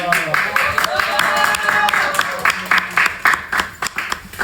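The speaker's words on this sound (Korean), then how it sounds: "자, 우리 박수로 우리 진수 성교사님 추천하겠습니다" Applause from a church congregation at an evening revival service, welcoming a speaker to the front; scattered claps grow sharper and more distinct toward the end, with voices and a tonal background mixed in.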